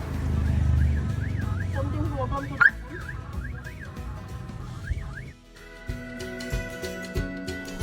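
Car alarm on a Toyota sounding with a repeating rising-and-falling warbling tone, then shifting to a steady sequence of electronic beeps, loud and close, with no talking.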